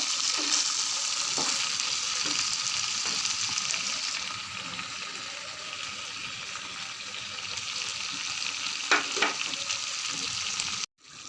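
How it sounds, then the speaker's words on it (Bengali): Koi fish fry in oil with sugar in a pan, giving a steady bright sizzle with occasional stirring clatters and a sharp knock near the end, close and continuous. "মাছগুলো দিয়ে দিয়েছি এখন দশ মিনিট রান্না করে নেব"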